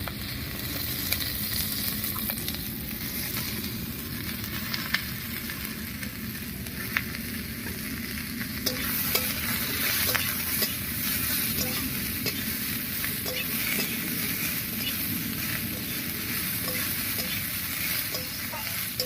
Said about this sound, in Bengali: এবার এর মধ্যে দেবো কেটে রাখা পেঁয়াজ আর লাউয়ের খোসা।